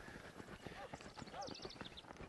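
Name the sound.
horse hooves loping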